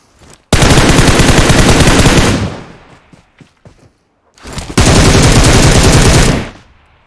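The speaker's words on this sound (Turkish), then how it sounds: "Abi o da bana atıyor. O da beni vuruyor." Two long, very loud bursts of rapid automatic gunfire in PUBG Mobile, each lasting about two seconds, separated by a gap of scattered single shots and thuds, with no talking over them.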